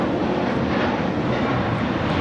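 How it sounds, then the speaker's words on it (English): An American Airlines Airbus A321 jet taking off from Los Angeles airport, a loud steady engine roar with broad rumble that holds constant throughout. "This is American Airlines Flight 32 taking off to JFK on the A321"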